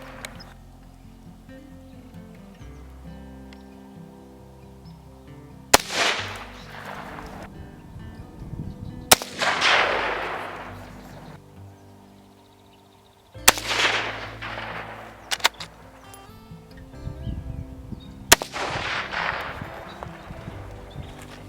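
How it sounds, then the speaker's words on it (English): Four sharp, loud reports from a .22 Magnum rifle firing 30-grain lead-free bullets, each crack trailing into a broad decaying echo, spaced a few seconds apart outdoors during rabbit hunting. "I'm shooting a little .22 Magnum with a 30 grain lead-free bullet looking through a fixed 6-power scope"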